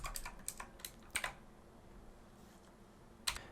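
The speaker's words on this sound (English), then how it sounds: "And then we type in our username," Typing on a computer keyboard: a few quick bursts of key clicks, then a pause and one final tap, quiet and close with no voices.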